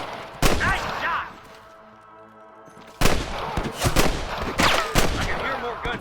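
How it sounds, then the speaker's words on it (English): Gunfire from a Western shootout in the video game Red Dead Redemption: sharp, loud bursts of several shots, a lull of about two seconds with shouting voices, then a rapid flurry of shots mixed with yelling. "I can hear more gunshots."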